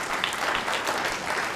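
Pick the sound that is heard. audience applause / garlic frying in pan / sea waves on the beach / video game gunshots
audience applause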